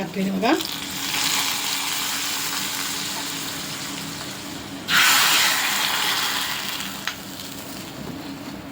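Crushed garlic and curry leaves sizzle in hot oil for a mango rasam tempering, a steady broadband frying hiss that surges louder midway, with a brief spoken word near the start.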